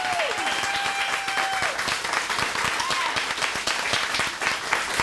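An audience at a ribbon-cutting ceremony applauds Dr. Walker with dense, steady clapping that fills the moment, while a faint whistle-like tone rises briefly over the crowd noise.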